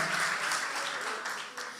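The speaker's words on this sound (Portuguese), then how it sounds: "Dá um aplauso ao Senhor" A church congregation applauds in a Portuguese-language service, a broad wash of many hands clapping together at moderate loudness, fading slightly toward the end.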